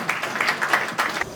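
A short burst of audience applause at the commissioning of a university swimming pool in Lagos, many hands clapping together at a fairly close, steady level.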